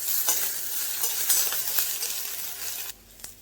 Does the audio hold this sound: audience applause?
no